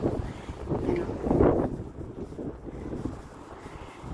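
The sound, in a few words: wind blowing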